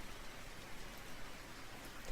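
Steady rain sound effect from a visual novel game, a dense, even hiss of falling rain and drops on surfaces, soft and continuous with no voices.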